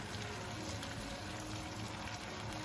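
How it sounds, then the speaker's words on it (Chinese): Vegetables and star anise frying slowly over low heat in reused oil, a continuous dense bubbling sizzle at steady low loudness without a break. "把我们准备好的蔬菜料放进来给它炸一下，大料也给它放进来炸一下，然后开小火慢慢的给它炸"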